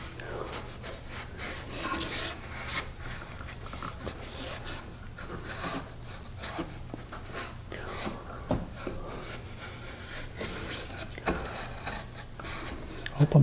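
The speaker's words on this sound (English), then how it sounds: "I'm getting the extra glue off of there." Excess glue being scraped and shaved off a wooden box with a hand tool, soft rubbing and rasping strokes repeating close by while a person talks over them.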